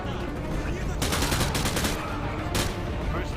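Dense rapid gunfire in Call of Duty Modern Warfare 2 fills the clip, loud and continuous, with heavier bursts near the start and again toward the end over a constant game background.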